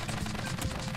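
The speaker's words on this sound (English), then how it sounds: "And there we have our spud firing wheel." A spud gun firing wheel built in a video game, shooting in a rapid, dense burst of popping shots that runs unbroken through one second.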